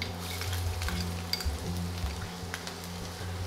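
Green chilies and chopped ginger fry in hot oil for Marwari gatte ki sabzi, making a steady close sizzling hiss with light stirring scrapes and no talk.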